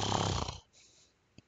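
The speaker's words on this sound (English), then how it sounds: "she sure knows how to snore." A loud, raspy snore from the queen of a changeling hive in a pony story, one long buzzing snort cut off abruptly, followed by near silence and a tiny click.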